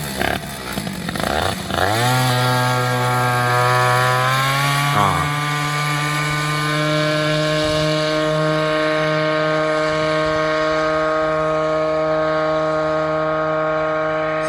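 Two-stroke Peugeot 103 moped engine running after carburetor tuning, revving up in a rising whine, then settling into a steady, loud, buzzing idle close by, heard alone.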